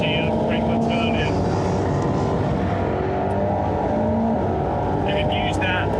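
A race car driven hard around a track like an F1 car, its engine droning loud and steady from the cockpit throughout, with a voice talking over the engine noise.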